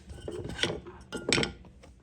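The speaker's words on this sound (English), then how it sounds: "Mixing that butter and brown sugar and pretzels and pecans together" Butter, brown sugar, pretzels and pecans being mixed in a bowl: a few scraping, clinking strokes of a utensil against the bowl, close and moderately quiet, with no talk.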